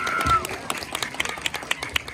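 An audience at a Balinese temple ceremony claps in scattered, uneven bursts, with a murmur of voices beneath.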